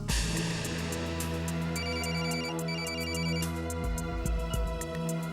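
A phone ringtone plays a repeating electronic melody, loud and continuous, with no one speaking.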